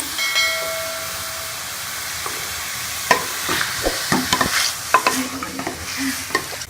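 Mutton sizzles in a hot pot for Peshawari namkeen gosht, a steady frying hiss overlaid with scraping stir strokes and clinks of the spoon against the pot that grow busier toward the end.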